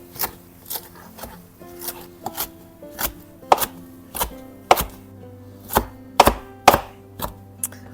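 A knife chops kale on a cutting board, about a dozen crisp, uneven strikes spaced roughly half a second apart, close and clear with no talking.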